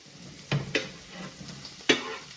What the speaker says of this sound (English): I've sweat off some onions in the pan.